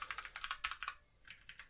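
Rapid keystrokes on a computer keyboard, close and crisp, about a dozen clicks in a quick burst, a short pause, then a few more taps, with no talk.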